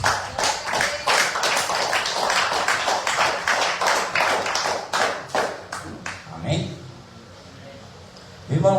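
A church congregation claps in praise during a Portuguese-language service, brisk rhythmic hand claps in a roomful of people that fade out near the end, with voices mixed in among the clapping.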